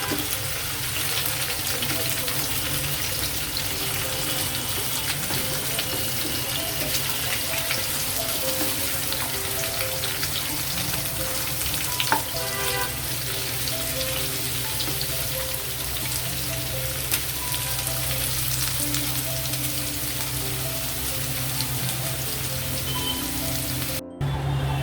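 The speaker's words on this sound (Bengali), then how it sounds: "বেশ কিছুক্ষণ ধরে নেড়ে চেড়ে পেঁপেটা সুন্দর করে ভেজে নিতে হবে।" Papaya pieces fry in hot oil while being stirred, a steady dense sizzle lasting throughout with occasional scrapes and clicks of the utensil.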